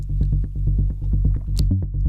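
The Anna soft bass preset from the Serum synth pulses in a steady, rapid, rounded low-end pattern, sidechained to the kick in a Drumcode-style techno track, with a brief high swish near the end.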